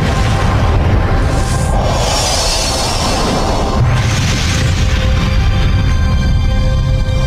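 A loud, deep rumbling boom sound effect for a supernova explosion, a sustained roaring low rumble with hissing bursts swelling twice, continuous and dense throughout.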